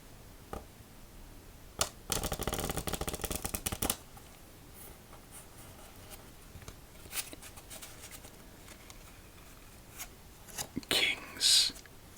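Playing cards are shuffled up close for a solitaire game: a long, dense riffle burst, then scattered soft taps and card slides, closing with a brief sharper flurry, all in a quiet room.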